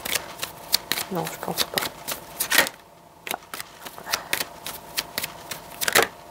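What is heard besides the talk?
tarot cards being shuffled and turned over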